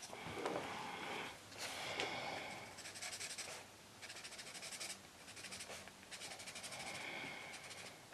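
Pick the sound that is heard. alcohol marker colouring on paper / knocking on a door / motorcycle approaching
alcohol marker colouring on paper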